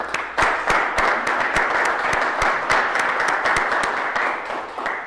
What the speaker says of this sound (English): let's all give a little round of applause for all the beginners who are here tonight.